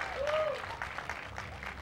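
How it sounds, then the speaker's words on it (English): Crowd applause at a fairground alligator show, a steady patter of clapping filling the air after the handler wrestles the gator, with a brief whistle-like tone rising early on. "Give him another nice big round of applause."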